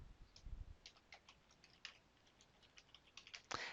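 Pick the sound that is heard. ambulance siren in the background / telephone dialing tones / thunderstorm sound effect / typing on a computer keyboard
typing on a computer keyboard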